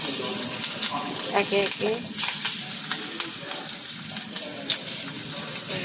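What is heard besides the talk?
fish frying in a pan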